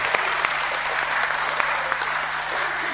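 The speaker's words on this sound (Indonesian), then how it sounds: "Tepuk tangan untuk panjenengan semuanya." Steady audience applause at a religious lecture, a dense continuous patter of many hands clapping together with a few sharper individual claps standing out, filling the hall throughout.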